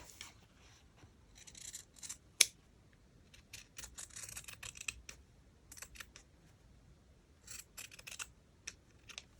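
Scissors cut through paper in short, crisp snips, some single and some in quick clusters, close by and fairly quiet, with gaps between the cuts.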